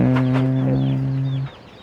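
Chickens raised for sale cluck and call up close, a loud sustained tonal clucking that fades out near the end, with faint farmyard noise behind.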